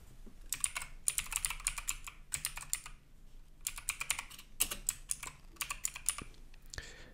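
Bursts of rapid typing on a computer keyboard as a quiz title is entered in Microsoft Forms, with clustered key clicks separated by short pauses, close and clear.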